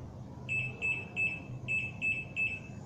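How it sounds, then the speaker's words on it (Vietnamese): A Hafele EL 9000 TCS electronic door lock beeps in pairs, six short high chirps in quick two-note bursts, clear and close over faint low background noise. "Khi nào có tiếng bíp bíp, nhập mã code mở cửa."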